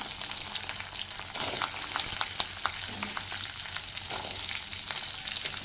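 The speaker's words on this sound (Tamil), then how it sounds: "இது எல்லாத்தையும் போட்டு நம்ம நல்லா வதக்கிடணும்" Urad dal, spices and other ingredients sautéing in a pan make a constant close frying hiss, with light stirring clicks scattered through it and no talk.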